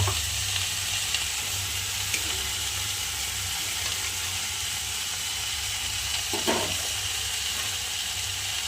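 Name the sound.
water poured into sizzling frying spice mix with greens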